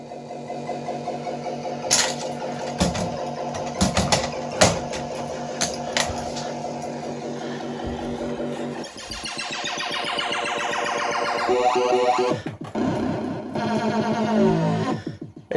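Electronic sound effects and music from a Williams Time Fantasy pinball machine, its sound board newly repaired: loud, busy bursts of synthesized tones, sharp hits and warbling sweeps running continuously, with no talking.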